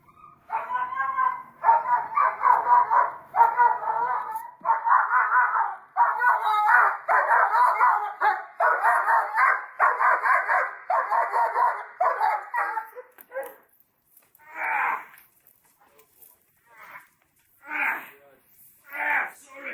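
A dog barks in rapid, loud bursts during a bite training session, a long run of barking followed by a few separate spaced barks and a brief yelp, with people talking nearby.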